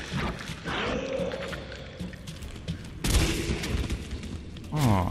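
Shotgun blasts from Resident Evil 3, with sharp broadband bursts around the three-second mark and near the end over a busy game mix, while someone talks through much of it.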